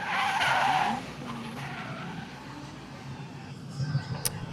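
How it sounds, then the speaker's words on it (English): A car does donuts at a car show, its tires skidding in a loud sustained screech that sweeps and fades, with engine noise and crowd murmur in the background. "Completely missed this guy doing donuts before"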